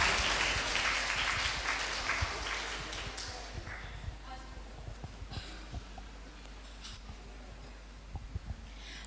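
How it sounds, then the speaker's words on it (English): Applause from a conference audience at an international economics and accounting conference, a steady, moderately distant patter of many hands that thins out toward the end with scattered claps. "Ladies and gentlemen, let's give it a big round of applause."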